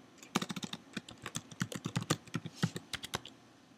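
A password is typed on a computer keyboard in a quick run of close, crisp key clicks, irregular but nearly continuous for a few seconds, with no voice.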